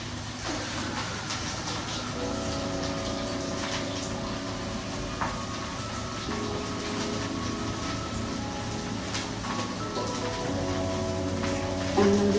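Tomatoes being washed for shakshuka under a running tap, a steady close splash and patter of water over the fruit, with a few faint clinks.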